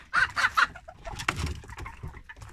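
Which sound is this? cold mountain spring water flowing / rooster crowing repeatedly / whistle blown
rooster crowing repeatedly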